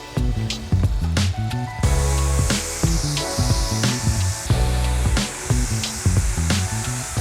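A car is rinsed with a water spray in direct sun, bursts of close, loud hissing spray broken by short pauses and quieter gaps.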